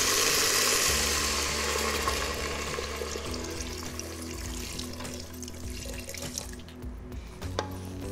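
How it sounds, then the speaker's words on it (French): Water runs from a tap into a pot for soup in a steady, splashy stream that starts loud and close and gradually grows quieter as the pot fills. "Et naturellement, de l'eau."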